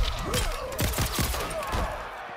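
A rapid volley of gunfire in Mortal Kombat 11, Robocop's shots in quick succession with thumps and a busy mix of game effects, fairly loud.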